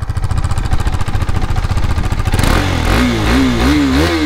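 A 2022 KTM RC 390 motorcycle engine idles with a rapid, steady putter, then revs up sharply in several rising and falling surges, loud and close.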